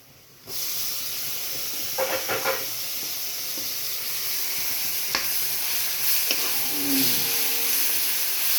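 Dried fish hits a hot pan and sets off a loud, steady sizzle and hiss that lasts to the end, with faint stirring scrapes on top.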